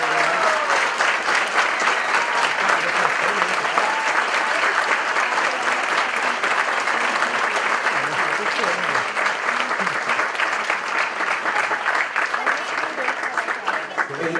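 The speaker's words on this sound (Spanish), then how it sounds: "lo que les voy a pedir es un muy fuerte aplauso" Loud, sustained applause from an audience at a living statues competition show and awards ceremony, a dense wash of many hands clapping that holds steady throughout with some crowd noise mixed in.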